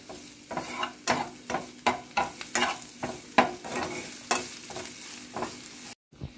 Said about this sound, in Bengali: এখন আমি দিয়ে দিচ্ছি পেঁয়াজ কুচি।